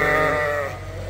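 Sheep and lambs bleat loudly and close by at a farm feeder while the ewes are being fed, one continuous drawn-out bleat layered with other animal calls.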